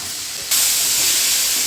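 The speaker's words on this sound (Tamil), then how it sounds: "தக்காளி சட்னி நல்லா எண்ணெயில் தக்காளி நல்லா வதங்கணும்" Tomatoes for chutney sautéing in oil in a pan, giving a loud, steady hiss that jumps up abruptly partway through and then holds, close and unbroken, with no talking.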